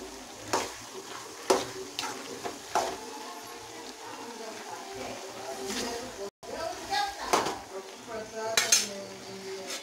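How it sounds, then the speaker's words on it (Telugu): Dry sea fish and eggplant curry pieces being stirred with chili powder in a pan, with repeated sharp spoon scrapes and knocks over a soft continuous sizzle, close and fairly loud. "బాగా కలిపేద్దామండి ఈ ముక్కలన్నీ బాగా."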